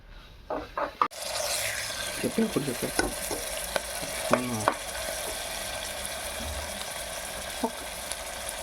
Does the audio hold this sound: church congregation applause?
no